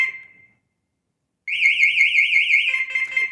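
A vehicle alarm gives a short tone, falls silent, then sounds a loud, close, rapidly warbling electronic siren that shifts to a steady tone near the end.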